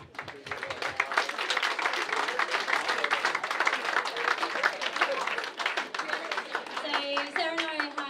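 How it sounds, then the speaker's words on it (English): Sustained applause fills an awards presentation night, dense clapping from a crowd running steadily throughout, with a voice beginning to speak over it near the end. "Applause, everyone."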